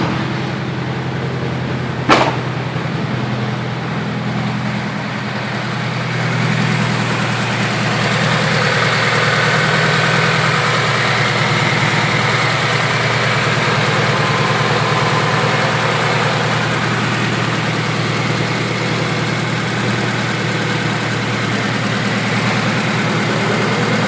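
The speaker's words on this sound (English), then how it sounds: "Right now it's idling at about 1300 RPM." A 1992 Honda Civic hatchback with a high-compression D16Z6 engine idles steadily at its first startup, a close, loud, continuous rumble with a single sharp click early on and no talking.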